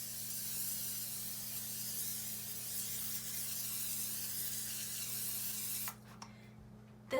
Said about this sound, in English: spray with nonstick cooking spray